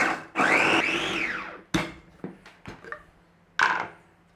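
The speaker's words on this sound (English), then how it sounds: "On with our lid, and we're going to give this a bit of a blitzing" A food processor blitzes a nut roast vegetable mix with zest, a loud rising and falling whirring burst followed by several shorter pulses and a final brief spin.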